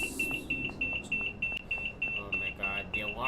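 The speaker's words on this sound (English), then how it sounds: "Oh my god, the alarm!" A train cab alarm in Train Sim World 5 beeps in a fast, regular series of short high tones, about three per second, sounding over faint background rumble and a few brief knocks.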